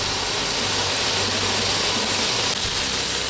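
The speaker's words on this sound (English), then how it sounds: "Get this side seared." Pork loin searing in a hot pan gives a loud, steady sizzling hiss that fills the whole stretch without pause, close and bright, with no talking over it.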